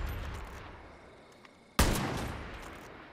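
A single sharp gunshot at helmet targets in Far Cry New Dawn, loud and sudden with a ringing tail, after quiet game ambience and a faint click.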